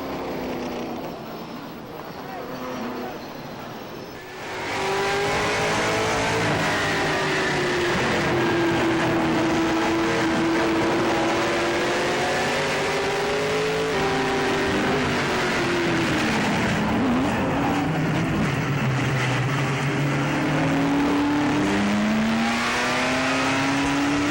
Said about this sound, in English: the yellow flag is out as Roger Raymond spins the number 62 and ends up against the wall in the 2nd turn